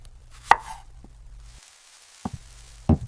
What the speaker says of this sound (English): I cut the vegetables with a knife.